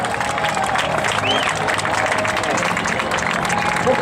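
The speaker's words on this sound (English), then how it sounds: "Let's hear a round of applause for our United States Navy Leapfrogs." An outdoor crowd at the 2014 Miramar Air Show applauds the United States Navy Leapfrogs parachute team, a steady wash of clapping heard from a distance, with a voice speaking over it.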